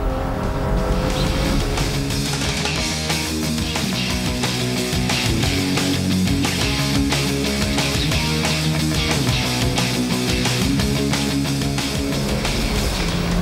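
A BMW 3.2-litre six-cylinder engine revs hard under full power, a loud, continuous rasping roar that rises and holds steady throughout, with tire and road noise underneath.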